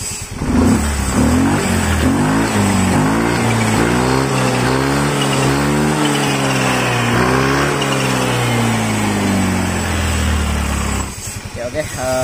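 A scooter with a throttle fault, suddenly unwilling to accelerate, revs hard up close, its pitch rising and falling through several throttle pulls before cutting back near the end.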